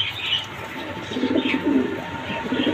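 Pigeons at a farm selling pairs of breeding pigeons, giving low, soft coos that repeat through the clip over a steady background hum, with an occasional faint chirp and no one speaking.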